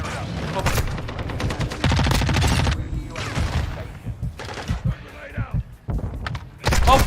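Rapid gunfire in a first-person shooter video game, loud bursts of automatic shots and single cracks close up, mixed with game voices and players talking.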